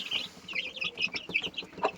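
A group of chickens clucks close by, giving a quick run of short, sharp cackling notes. There is no speech.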